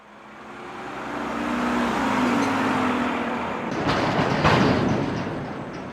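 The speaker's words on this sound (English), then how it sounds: "Trucks of all shapes and sizes are constantly coming and going from Middle Point Landfill outside of Murfreesboro." Trucks of all shapes and sizes roll in and out of Middle Point Landfill outside Murfreesboro, Tennessee, a broad rumble that swells, dips and swells again as a heavy vehicle passes close by.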